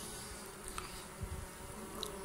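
Solitary bees buzz faintly, a low, quiet, steady insect hum with a few brief louder passes close by, no voices present.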